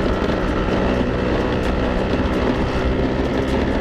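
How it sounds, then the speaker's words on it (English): Engine of a 1992 Piaggio Vespa PX125 scooter under way, a loud, steady buzzing two-stroke drone with rushing wind noise, continuous and close throughout. "riding really nice, lots of power throughout the gears"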